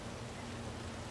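In Cyberpunk 2077, rain falls in a steady, dense hiss, a soft, even wash of noise with no voices.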